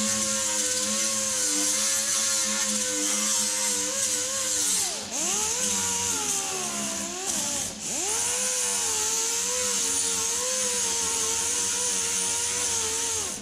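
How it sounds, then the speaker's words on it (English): An angle grinder cleans up metal parts before welding, a loud close whirring drone with harmonics that dips twice as the disc loads against the steel, then recovers to full speed. "I'm going to run a grinder over them, get them cleaned up."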